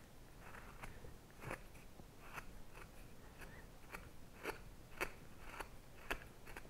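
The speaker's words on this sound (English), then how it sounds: "I like the sound of the tool going through the wood." A woodcarving tool cutting through wood while shaping hair detail on a carved face, heard as a steady series of soft, crisp scraping crunches roughly every half second, faint and close, with no voices.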